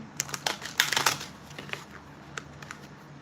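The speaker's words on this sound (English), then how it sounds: "I'm gonna keep shuffling to get clarification." Tarot cards are shuffled by hand in a brisk burst of crisp riffling and flicking clicks, then a few lighter taps and slides as the shuffling slows, close and alone.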